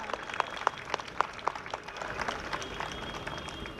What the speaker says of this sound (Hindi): Ladies and gentlemen, please give a huge round of applause for our star.